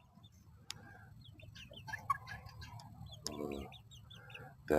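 A rooster on a small farm gives short clucks and soft calls in brief bursts, fairly close and at moderate volume, with a brief spoken syllable heard at one point.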